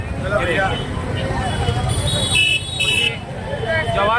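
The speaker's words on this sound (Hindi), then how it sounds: "और आप देख सकते हैं कितना ट्रैफिक है अभी यहाँ पर।" Dense road traffic at Ranipura market on MG Road in Indore during Ramzan, with engines rumbling, several horn toots and a crowd murmuring, while someone talks over the din.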